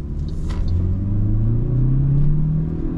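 A 2024 MG HS with a 1.5 T-GDI turbo petrol engine and dual-clutch gearbox accelerates on a motorway. It gives a smooth, rising engine drone over steady low road rumble, heard from inside the cabin with no talking.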